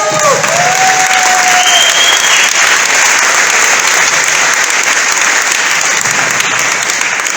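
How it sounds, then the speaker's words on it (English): Loud, dense crowd applause fills a hall at a Minnesota GOP gubernatorial debate, sustained throughout with a faint whistle-like tone rising briefly at the start. "Can we get a round of applause?"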